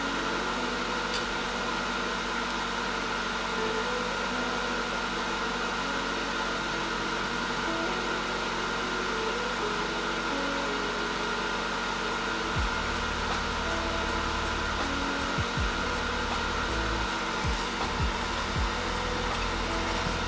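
Hot air stream from a rework station blowing steadily onto the circuit board of a faulty Kodak Printomatic instant print camera, a continuous close hiss with a low hum shifting partway through, no talking.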